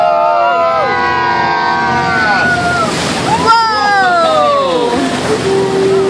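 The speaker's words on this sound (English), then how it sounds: "We're going in for a splash!" An amphibious duck tour boat in San Francisco plunges into the water, with a rush of splashing and sloshing under wind noise while passengers whoop and cheer loudly over it.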